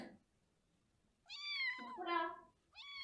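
A pet cat meows three times, close and fairly clear, with short pauses between the drawn-out, tonal cries.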